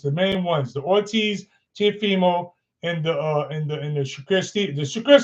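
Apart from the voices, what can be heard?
None of the usual background noises is heard.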